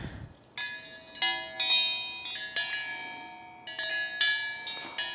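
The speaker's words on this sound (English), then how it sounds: "The wind chimes over here" Wind chimes in a backyard ring out in irregular clusters of bright metallic tones, each strike lingering and fading before the next, calm and fairly close.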